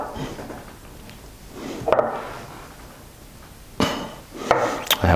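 Spoon scraping and clinking against a bowl while hot paprika and smoked paprika are stirred into a harissa spice blend, with irregular knocks and a few sharper taps near the end.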